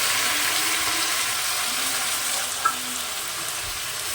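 Ginger, cumin, turmeric, chilli and tomato masala paste hits frying potatoes and sets off a steady, broad sizzle that holds evenly throughout, with a small clink partway through. No one talks.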